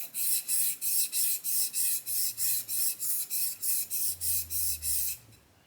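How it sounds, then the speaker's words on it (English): Left-handed beauty shears of 440A steel are sharpened on a whetstone, giving fifteen steady, evenly spaced rasping strokes, loud and close, each a short scraping sweep followed by a brief pause. "I'm not seeing much difference in the way it feels on the Whetstone"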